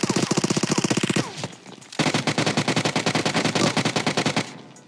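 Rapid automatic gunfire from the video game PUBG Mobile, two loud sustained bursts of fast, evenly spaced shots separated by a short pause, with no talk.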